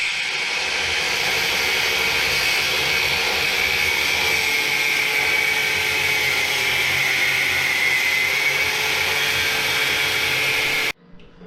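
A power drill bores out holes during a racing lawn mower build, producing a loud, continuous high-pitched whine that holds steady for about ten seconds before cutting off abruptly.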